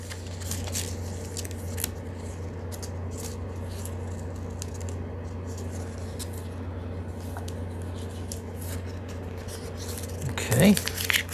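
Scissors snip through material for a project in short, close cuts, with a person talking and a low steady hum in the background.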